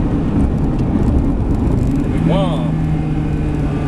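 A Ferrari 360 Spider sports car drives with a steady engine drone from the cabin, then a brief rising rev partway through, while a voice speaks briefly over it.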